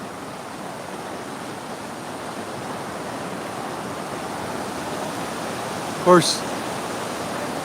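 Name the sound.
raging torrent of water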